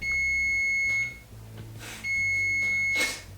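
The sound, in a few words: appliance beep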